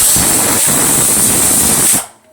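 A pressure cooker releases steam in a loud, continuous, close hiss that cuts off abruptly after about two seconds, leaving near silence.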